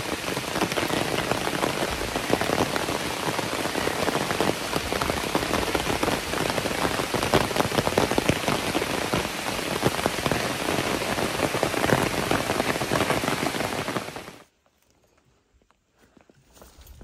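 Heavy rain patters steadily on a surface during a hike, a dense, loud, continuous wash that cuts off abruptly near the end, leaving near silence.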